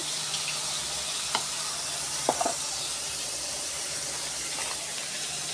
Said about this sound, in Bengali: আগে আমি মশলাটা ভেজে নেবো